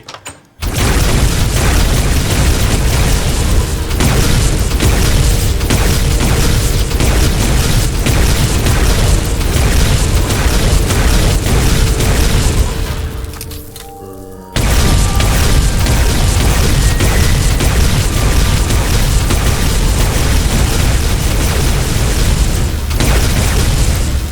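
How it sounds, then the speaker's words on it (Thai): Loud, continuous bursts of rapid gunfire and booming blasts from a video game, nearly unbroken, with a brief lull midway before the barrage resumes. "จะไม่พูดนะครับเพราะเสียงปืนมันดังมาก"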